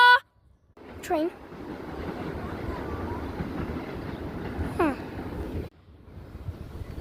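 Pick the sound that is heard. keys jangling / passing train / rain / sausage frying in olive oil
passing train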